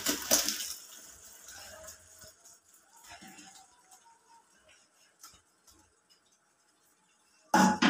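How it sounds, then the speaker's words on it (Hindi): Water is drained off boiled spinach and potatoes, with a splashing pour at the start, faint trickles and clinks through a quiet middle, then another brief gush at the end. "अब हम इसका पानी निकालने लगे हैं"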